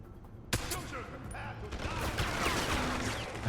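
Gunfire in the video game Deus Ex: Human Revolution, opening with a sudden sharp shot, then a dense, continuous barrage of shots and impacts mixed with game sounds.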